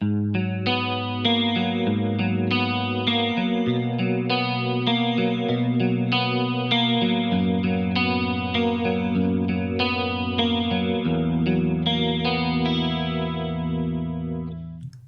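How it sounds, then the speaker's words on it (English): Clean electric guitar through an Axe-FX modeling a Mesa Boogie John Petrucci amp picks a steady arpeggiated pattern with a shimmering, wide stereo tri-chorus effect, an 80s-style clean tone, continuous and full over about fifteen seconds. "I add my favorite stereo tri-chorus, and it really captures what I think a great clean 80s style clean tone"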